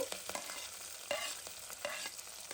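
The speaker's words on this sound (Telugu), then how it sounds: "తర్వాత ఉల్లిపాయలు యాడ్ చేశాను కరివేపాకు" Onions and curry leaves fry in hot tempering oil for a broad beans masala curry, giving a steady close sizzle with a few stirring scrapes and no voices.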